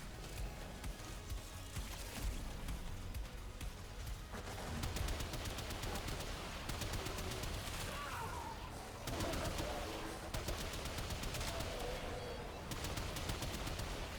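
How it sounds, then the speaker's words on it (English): Gunfire from Warframe in a Steel Path Railjack mission: rapid, dense bursts of shots going on almost without pause at moderate loudness, mixed with scattered game effects and a few faint tonal sounds. "Guns continuing to do gun things, especially in the presence of a Banshee."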